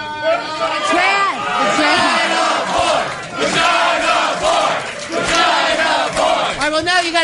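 A crowd of people yelling and cheering in loud, continuous waves of whoops and shouts, close and energetic, with brief dips between bursts.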